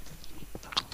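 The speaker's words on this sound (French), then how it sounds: "Je t'entends mâcher comme un con." Close-up chewing with a few soft bites and crunchy clicks right at the microphone, brief and fairly quiet, with no talking.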